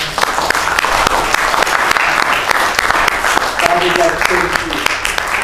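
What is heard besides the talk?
church congregation applause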